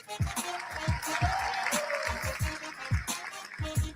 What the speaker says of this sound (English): Please give a round of applause for our labor community